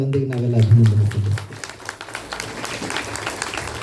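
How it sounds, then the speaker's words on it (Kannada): An audience breaks into applause after a speaker's voice, a steady patter of many hands clapping at moderate distance that carries on for several seconds. "ಇವತ್ತು ಶೈಲಾಮ್ನವರು ಬಹುಶಃ ಅವ್ರಿಗೊಂದು ಜೋರು ಚಪ್ಪಾಳೆಯೊಂದಿಗೆ ನಾವೆಲ್ಲ ಅಭಿನಂದನೆ"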